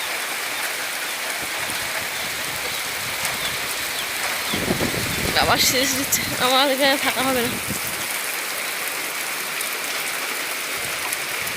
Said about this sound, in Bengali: বৃষ্টি হচ্ছে দেখো তখন টিকটিক করে হচ্ছিল এখন শব্দ শুনছি কি জোরে আওয়াজ হচ্ছে